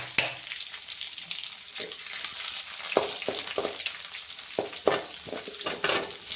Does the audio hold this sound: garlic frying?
yes